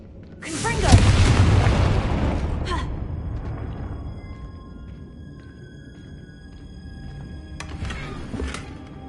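A Confringo fire spell blasts off in Hogwarts Legacy, a loud booming burst near the start that rolls into a long fading rumble, with a fainter second crackle of magic near the end.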